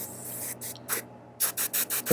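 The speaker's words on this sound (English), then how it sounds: "sputtering and it's not wanting to spray paint" Clogged airbrush spitting and sputtering while spraying hobby paint, a run of short, uneven broadband bursts of air and paint, close and fairly loud with brief gaps between them.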